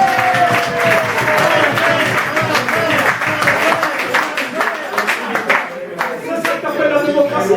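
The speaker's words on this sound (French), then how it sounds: "je vous invite dès à présent à applaudir comme il se doit votre futur" A club assembly applauds its incoming secretary with sustained clapping from a crowd filling the room, steady and dense throughout, with voices mixed in.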